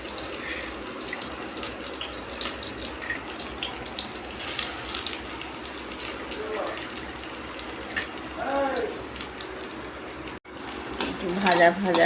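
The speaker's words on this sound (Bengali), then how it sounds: "পেঁয়াজটা কড়াতে দিয়ে দিলাম" Onions fry in oil in a kadai, making a soft, steady crackle with stirring scrapes and clinks on top. A voice speaks briefly near the end.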